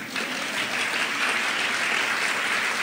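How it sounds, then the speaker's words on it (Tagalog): A church congregation at a preaching service claps steadily in a brief, even burst of applause that fills the room, with no voices over it. "Pumapalakpak ba kayo niyan?"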